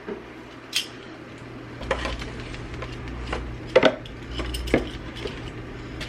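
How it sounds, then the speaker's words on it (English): Food being mashed in a bowl in a home kitchen, scattered soft thumps and scrapes with a few sharper clinks against the bowl, close and quiet. "So I'm just going to kind of mash this."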